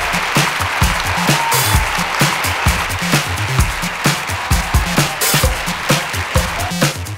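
Loud, close applause from an audience celebrating the 2014 teacher of the year, with sharp individual claps standing out from a dense, continuous roar that carries on unbroken.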